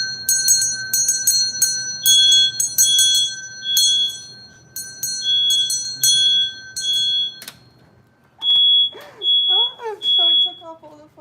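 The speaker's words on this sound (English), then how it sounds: "So it took off all the fire alarms." Several building fire alarms go off at once, loud, piercing repeated beeping and bell-like tones in rapid bursts, then a separate alarm chirps in spaced pulses, triggered by petitions burning in a flame.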